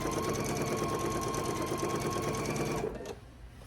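A sewing machine chain piecing quilt blocks runs steadily at close range with a fast, even stitching hum, then cuts out near the end, leaving quiet room tone.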